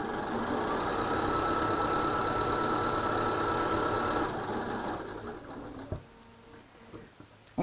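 A sewing machine stitches a quilt border in a fast, steady mechanical whir for about four seconds, then slows and stops, leaving a few soft clicks and handling noises.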